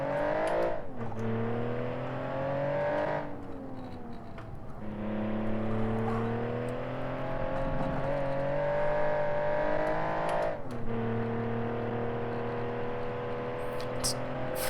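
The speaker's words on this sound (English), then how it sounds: "You can hear the turbos whining." Turbos whine in rising and falling pitched tones over the revving engine of the Bay12 Motors Minecart in BeamNG.drive, steady and loud with a few gear-change dips, and no voices.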